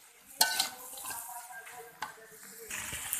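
Tempeh hits a pan and is stirred, giving soft sizzling and frying with clinks and scrapes of a utensil against the pan, fairly close and moderately quiet.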